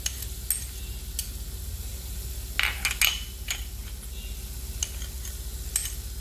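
Beans and mixed vegetables sauté in a pan with a soft continuous sizzle, broken by sharp clinks and scrapes of a spoon stirring against the metal.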